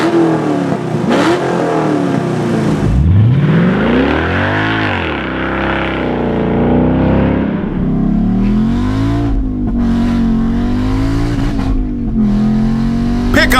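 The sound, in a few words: car engine revving with QuickTime Performance electric exhaust cutouts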